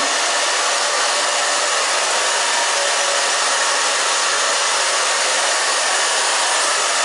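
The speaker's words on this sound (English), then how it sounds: "So see, I want volume here, so I'm going to just dry it this other way for just a second" A hair dryer blows steadily and loudly at close range while styling a short pixie haircut on thin hair, a continuous broadband whoosh with no break and no voices.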